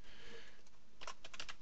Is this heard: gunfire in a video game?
no